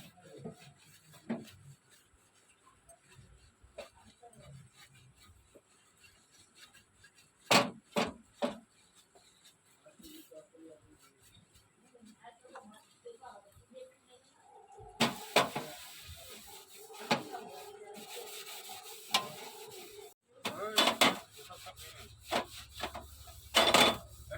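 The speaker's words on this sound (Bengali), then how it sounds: "এখন এই বাসন মাজার ছোবড়াটা দিয়ে এটাকে বেশ করে ঘষে দিচ্ছি" An object is scrubbed hard with a dish-scouring pad, producing close rasping rubs in bursts, louder and more continuous in the latter half after quieter scattered knocks and rustles.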